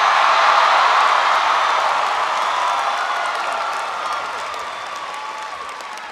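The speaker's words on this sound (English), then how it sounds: "I thought I'd go for the cheap applause line to start things off." Large commencement crowd in the University of Michigan stadium applauding and cheering at President Obama's 2010 ceremony, a dense roar of clapping that is loud at first and slowly fades, with no talk over it.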